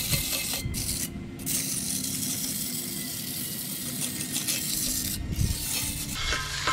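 Sandpaper rasps against wood spinning on an old ceiling fan converted into a garage lathe, a steady, close scraping hiss over the fan motor's continuous hum.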